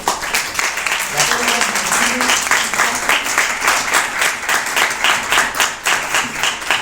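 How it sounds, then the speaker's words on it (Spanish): Audience at a lecture on racism and epistemicide applauds the speaker Ramón with a full, steady wash of clapping throughout, with a few voices underneath. "Les pido un aplauso para Ramón."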